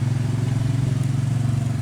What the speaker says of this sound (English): my dad is riding around my front yard on my four-wheeler